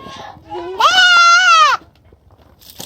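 A young goat kid gives one loud, close, quavering bleat lasting about a second, preceded by a short rising bleat, with quiet human sounds before and after.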